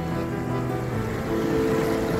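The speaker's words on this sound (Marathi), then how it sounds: "इथं जरा हे होते पाणी वडते इकडे" Water flows near Bhorgari Fort as a steady, close rushing wash with a low hum beneath it, continuous and unbroken, with no talking.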